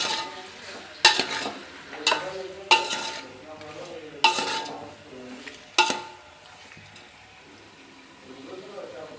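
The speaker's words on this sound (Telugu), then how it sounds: "ఇది మొత్తం ఒకసారి ఇట్లా కలిపేస్తుంది." Chicken curry being mixed in a pan, several loud scraping strokes of a spoon against metal over a low sizzle, the strokes spaced about a second apart before the pan settles into quieter bubbling.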